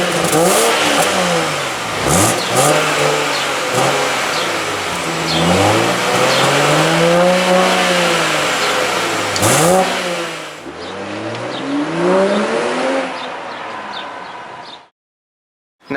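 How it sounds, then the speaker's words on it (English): A 2019 BMW X7 xDrive40i SAV accelerating hard, its engine note rising and falling through several gear changes over about sixteen seconds, loud and close with no talk. "its acceleration is pretty hard and surprising once you take in the size of this SAV"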